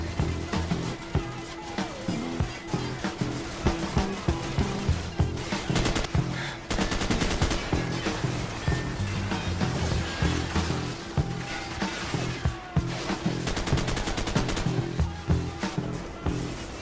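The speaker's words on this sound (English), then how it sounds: "enemies pop up and shoot at you, you shoot them, they pop back up, you shoot them again" Rapid automatic gunfire fills a Call of Duty Modern Warfare firefight, sustained bursts of machine-gun fire and scattered shots layered over a dense, continuous battle din.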